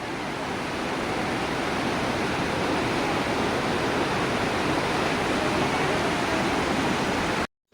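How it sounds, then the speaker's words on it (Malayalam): The Bavali river rushes in a strong, powerful current at Kottiyoor temple in Kannur, a dense, steady roar of water heard close and loud without voices, cutting off abruptly at the end. "ഭയാനകമായ ഒഴുക്കാണ് ബാവലിപ്പുഴയിൽ ഉള്ളത്"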